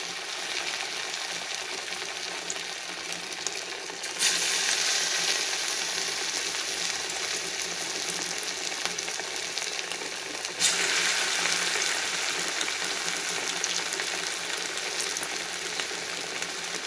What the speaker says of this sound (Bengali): এখন আমি এই ফুলকপিগুলো দিয়ে তৈরি করা আমার ফুলকপিগুলোকে ভেজে নিব এক এক করে